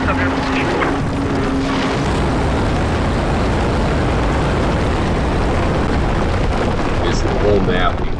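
A skyscraper collapses in Battlefield 4 multiplayer, a loud, continuous broadband rumble of crumbling structure and debris that roars steadily for several seconds, with a brief tonal hum early on and faint higher crackles near the end.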